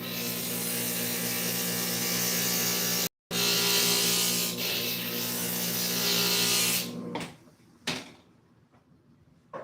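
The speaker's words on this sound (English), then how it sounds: "Just one more pass on the grinder and we'll go with that." A grinder makes one more pass, a loud steady mechanical whine with strong harmonic hum running for several seconds, briefly cut near the start, then winding down into faint clatter and a couple of short knocks.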